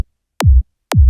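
Two short, punchy psytrance kick drum hits with a quick pitch drop, tuned too high so they sound thin rather than deep, separated by silence.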